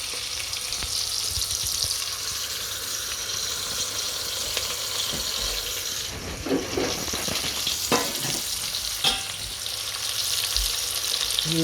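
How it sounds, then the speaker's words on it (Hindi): Onions sizzle steadily in a pan while a spoon stirs them, with scraping and clinking strokes rising over the continuous frying hiss; no one speaks. "ये प्याज को साथ साथ हिलाते रहें चमचे से ताकि ये अंदर से ये जल ना जाए"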